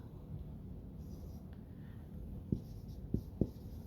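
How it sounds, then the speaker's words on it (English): Marker or pen writing out a word for a math lesson makes a faint scratchy scrawl over steady room hiss, ending in three short taps or strokes. "I'm going to write in that first section"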